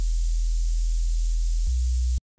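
A low sine sub bass from the Phase Plant synth plays with hissing noise layered over it, a sustained tone that drops in pitch near the end and then cuts off abruptly into silence.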